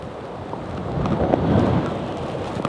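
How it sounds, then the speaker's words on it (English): Strong wind gusts buffet the microphone at an outdoor bush campsite in a valley, a rough, rushing roar that swells in the middle and stays close and loud. "Bloody windy."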